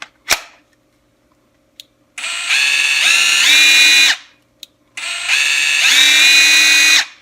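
A Kimo 20V brushless cordless impact driver with a variable-speed trigger whines loudly through two run-ups of about two seconds each, rising in pitch and then cutting off, with a sharp click before the first run.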